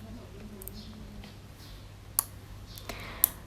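A few crisp, isolated mouse clicks on a computer, quiet and close, spaced irregularly over a faint background hum.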